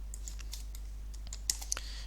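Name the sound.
pressing arrow keys on a computer keyboard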